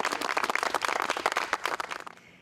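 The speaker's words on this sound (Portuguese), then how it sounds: "Vamos aplaudir Jesus bem forte?" A worship audience applauds loudly for Jesus with dense, rapid, continuous clapping that swells and then fades out over about two seconds.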